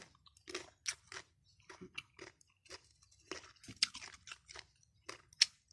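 Someone up close bites and chews raw wild fruit, making quiet crunchy, wet chewing bursts in an uneven rhythm, with no speech.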